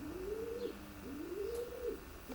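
A mealy show pigeon cock, a best-in-show winner, gives low, rolling coos in two long rising-and-falling phrases, close and clear over a steady background hum in a breeding loft.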